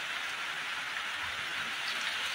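Heavy rain falls steadily outside a house after days of downpour, an even, dense hiss of drops heard from indoors with no talking.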